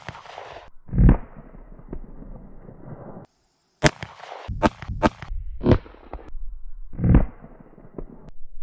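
Gunshots fired at a watermelon target crack out loud and close in a ragged series, several sharp reports spaced over a few seconds with short gaps between them.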